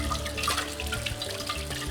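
Flood-damaged photographs rinsed front and back under cold running tap water, a close, steady faucet stream with shifting splashes into a sink, no talking.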